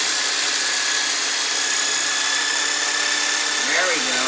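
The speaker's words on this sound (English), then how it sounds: "This is a retooled jigsaw." A retooled jigsaw repurposed as a chiropractic massager runs continuously with a steady, loud motorized buzz, working along the back muscles near the listener.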